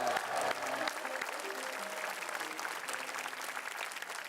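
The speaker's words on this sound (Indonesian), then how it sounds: "Beri tepuk tangan yang lebih meriah dong buat Dani dong." Studio audience applause on an Indonesian TV news show, a sustained, fairly quiet wash of many people clapping together, steady throughout with a few louder hits at the start.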